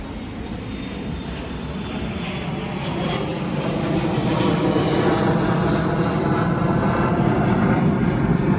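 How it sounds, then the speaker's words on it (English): Loud, steady roar of airplanes passing overhead, building slightly in volume and holding as a broad engine drone with no voices. "we'll have to wait for the loud planes to fly over"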